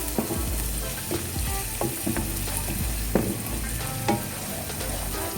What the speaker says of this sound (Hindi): फिर 2-3 मिनट से ऐसे भून के इसकी खुशबू निकलती है।